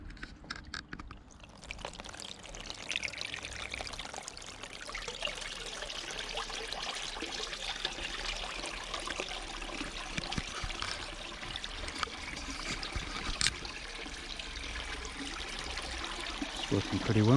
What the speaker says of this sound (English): I want the water kind of just trickling over the top of that stone.